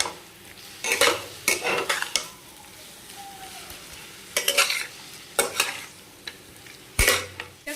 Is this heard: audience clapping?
no